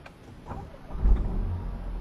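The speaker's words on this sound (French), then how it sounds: "c'est de démarrer la voiture" A car engine cranks and catches, settling into a low rumble that swells over the second half, close and moderately loud with no talk.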